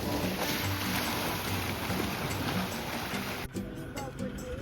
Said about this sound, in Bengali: বেশ জোরেই ঢেউ আসছে।